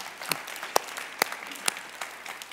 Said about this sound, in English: Hey, clap for God.